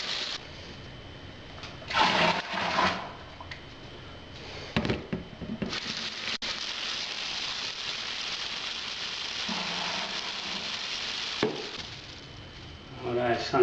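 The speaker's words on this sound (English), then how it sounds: "Mixing." Homebrew Coopers IPA wort is stirred in a fermenter, giving close swishing and sloshing bursts of liquid in uneven waves, with scraping and splashing between the strokes.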